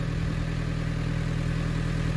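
A tractor engine labors steadily while pulling and packing a 13-ton load of silage into a bunker, a loud, continuous low throbbing drone with mechanical clatter and no pauses.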